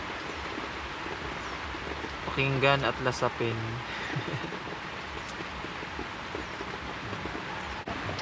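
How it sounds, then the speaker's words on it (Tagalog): Rain patters steadily on a camping tarp at a farm campsite as a soft, continuous hiss beneath a man's short spoken phrase. "Damhin muna natin yung patak ng ulan guys."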